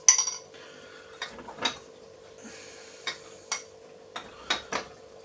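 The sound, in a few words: stirring icing sugar into the cake topping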